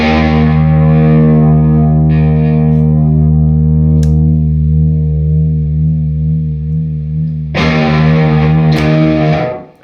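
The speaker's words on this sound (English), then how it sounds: "quick go with what the tremolo sounds like on this" An electric guitar runs through a Roger Mayer Voodoo Vibe pedal set to tremolo, a loud sustained chord pulsing with a steady wobble, then a fresh strum near the end.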